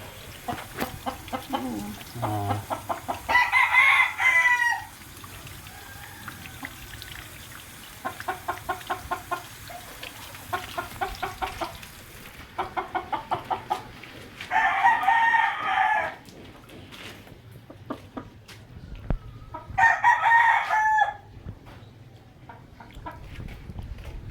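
A fighting rooster crows loudly three times, spaced several seconds apart, with rapid clucking bursts in between, close by and without talking.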